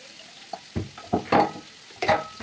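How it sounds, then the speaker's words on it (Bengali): Vegetable curry seasoned with salt and turmeric frying in a pan, heard as a few short, quiet bursts of sizzling and stirring scrapes spread over a couple of seconds. "টিফিন গুছানো দিয়ে তরকারিটা ভাজা হয়ে গেছে"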